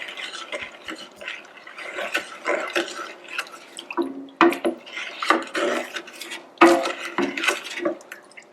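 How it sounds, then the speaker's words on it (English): Stirring a salt brine with aromatics for a turkey in a pot, giving irregular scraping, swishing and clinking sounds with a few sharper knocks, close by and fairly quiet. "And now I'm just going to stir this."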